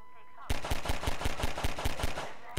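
Rapid gunfire from the video game Half-Life 2 bursts out suddenly after a quiet start, with about a dozen sharp, evenly spaced shots in a fast automatic volley, loud and close.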